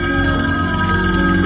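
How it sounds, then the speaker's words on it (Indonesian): A telephone rings steadily and loudly in a tense Squid Game Season 3 scene as the Front Man receives a call. The ringing is continuous, near and unbroken, with no speech over it. "Frontman mendapatkan telepon dari Kapten Park"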